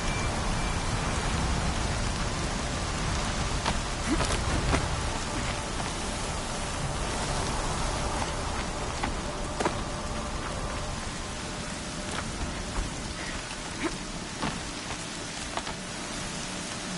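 Steady heavy rain pours down continuously in the game Horizon Zero Dawn, a dense hiss with scattered drop patters throughout, no voices.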